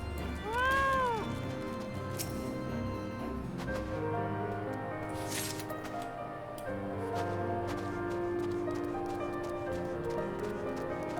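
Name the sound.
cat meowing in video game Final Fantasy XIV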